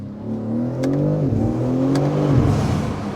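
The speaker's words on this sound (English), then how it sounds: "I'm gonna brake here a little and then give it some throttle" A 650 hp Manhart MH3 650 BMW M3 Touring accelerating hard, its engine note rising and falling through gears in a steady, loud, close-up roar that dips briefly before pulling again.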